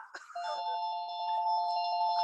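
A doorbell chimes with a sustained electronic tone that rings on for about two seconds, clear and close with no talking over it.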